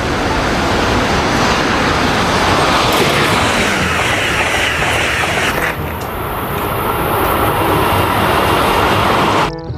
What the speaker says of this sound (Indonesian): Wah, ini kereta api super cepat.